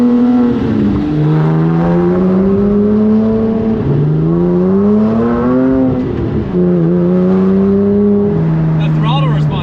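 A gated Lamborghini Murcielago's exhaust revs close and loud, its tone climbing and dropping through several throttle swells in a rough, harmonic-rich roar.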